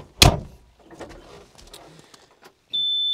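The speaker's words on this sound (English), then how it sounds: "I'm gonna go ahead and shut my cabin door." The cabin door of a 2020 Bobcat E35i mini rubber track excavator shuts with one sharp close thump, followed by soft rustling and then a steady electronic tone from the cab.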